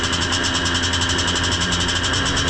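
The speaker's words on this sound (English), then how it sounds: "They do a live engine start instead of a dead engine for the vintage." Vintage and pre-modern racing motorcycles at a Secca Homestead race, engines running together in a steady, loud, buzzing drone with a fast pulsing rhythm throughout.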